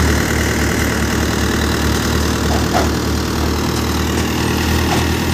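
A steady, loud Euro 55 tractor engine runs a Multi Malwa thresher, idling and chugging continuously with a low rumbling drone and rhythmic knocking, unchanging throughout, no voices.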